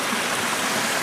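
A brook flows through a rocky gorge along the Weathersfield trail, its water rushing in a steady, close, full wash with no break and no voices.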